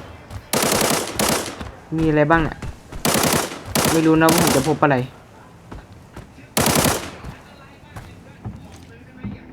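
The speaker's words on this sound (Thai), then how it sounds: "โอ้โหเสียงปืนดันสนั่นลั่น" Bursts of rapid gunfire in the video game Arena Breakout rattle loudly in several volleys, with someone talking between and over them.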